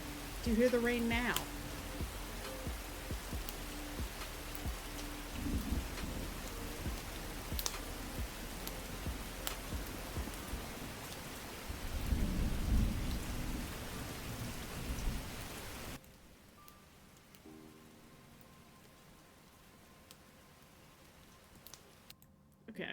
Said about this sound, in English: Do you hear the rain now?